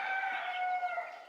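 Young 11-day-old broiler chickens peep in a continuous chorus of high, overlapping calls from a brooder pen, steady and fairly close with no talking.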